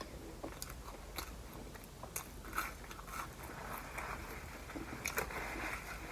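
Close, quiet biting and chewing of McDonald's food in a mukbang, with soft crunches and wet mouth clicks repeating irregularly and no talking.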